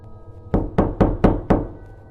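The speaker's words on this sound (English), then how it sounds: "The second time the door was knocked again." Five firm knocks on a bedroom door in an old house, evenly spaced and close, sharp and resonant against a quiet room.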